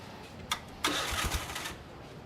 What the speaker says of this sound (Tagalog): Kung kailan kukunin na itong motor na to, ayaw naman umandar.